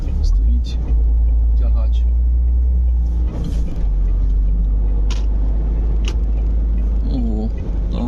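A heavy truck engine rumbles deeply and steadily as it accelerates along the road, with people talking over the low drone.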